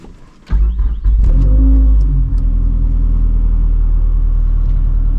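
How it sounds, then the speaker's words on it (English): A turbocharged Mazdaspeed 3 running on pump gas pulls away hard, its engine note swelling into a loud, close, steady drone that holds for several seconds. "let's go for a little spin and see what kind of turbo noises we can make here on pump gas"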